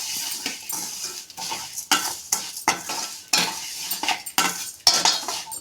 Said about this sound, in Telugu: అదే నెయ్యిలోకి మళ్ళీ సేమాలు వేసుకొని వేయించుకున్నాం